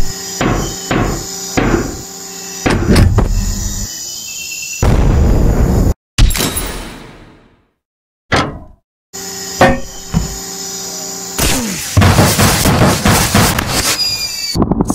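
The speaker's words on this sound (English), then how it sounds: "looks like the SAM turret's shooting all of its missiles" A SAM turret in the Henry Stickmin video game launching its whole load of missiles, loud sharp blasts and bangs in rapid bursts, a brief silent gap midway, then more explosive bursts.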